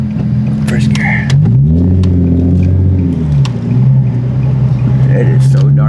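Nissan 370Z Nismo pulling away hard in first gear at night on a dark street, engine note rising then settling into a loud, close drone, with a few quiet words spoken over it.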